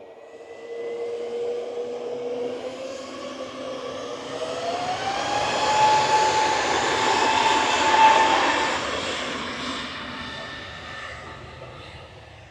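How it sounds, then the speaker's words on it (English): A Lufthansa airliner touching down at Manchester Airport, its broad engine roar rising to a peak mid-way then fading, with a gliding whine sweeping upward early on, heard from a distance. "Just touching down is another Lufthansa"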